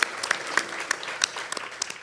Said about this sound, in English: You give him a big round of applause